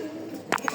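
Pigeons, including racers and Giribaz birds, cooing close by in a home loft, a brief pair of soft throaty coos over steady low background noise.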